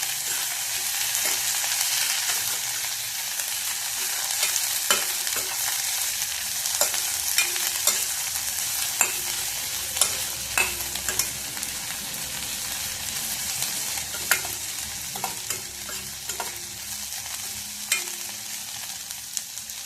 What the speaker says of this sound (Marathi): आपण यामध्ये ही भाजी घालून येणार आहोत. छान परतून घ्यायचं आहे.